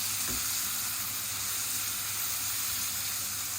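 Tomato and onion fry in a pan for a tomato and dried-fish chutney, giving a steady, close sizzle with a faint stirring knock at the start.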